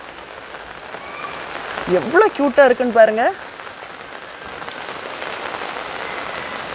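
Steady rain falls on plants in a home garden, a soft continuous patter throughout, while a person speaks briefly in the middle over it.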